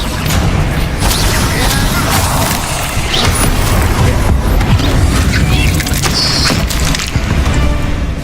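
The Bombarda blast spell in Hogwarts Legacy, heard as loud booming explosions and crunching impacts layered in a continuous, chaotic combat din with mechanical rattles throughout.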